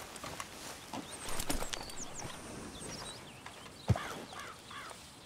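Faint horse hoof clip-clops in Red Dead Redemption 2 under a bed of chirping birds and ambient outdoor noise, with a sharper thud near the middle.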